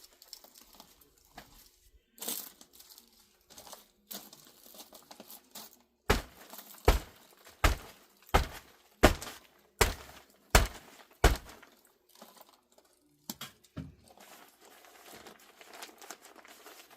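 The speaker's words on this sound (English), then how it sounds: "I'm going to mix in some peat moss with some garden soil in here." A shovel working peat moss into garden soil in a planting bed, a run of about eight evenly spaced dull crunching thumps in the middle, with scattered softer scrapes and rustles before and after.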